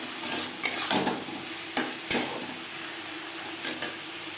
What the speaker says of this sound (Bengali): পেঁয়াজের সাথে টমেটো বেশ ভালো করে মিক্স করে দেবো